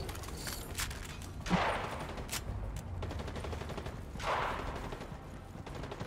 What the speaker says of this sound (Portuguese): Esses tiros são aí em cima